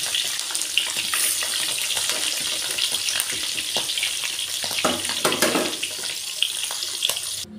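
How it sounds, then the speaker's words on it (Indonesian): Smoked tongkol tuna fries in a pan with an even, close sizzle and crackle throughout, a few louder spits near the middle and no speech. "Sebelum kita bikin mangut, kita goreng dulu ya panggangnya. Ini panggang tongkol."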